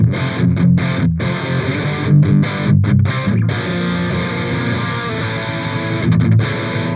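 Heavily distorted electric guitar played through an Amplitube Soldano amp simulator, chunky rhythmic riffing with short staccato stops early, then sustained saturated chords, loud and close with no talking.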